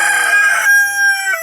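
A rooster at a poultry market in Taytay, Rizal gives a single loud, close crow with a sustained, slightly falling tail.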